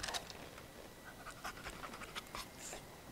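A dog pants in the video game Remnant 2, quick breathy huffs repeating in short irregular bursts, close and fairly quiet.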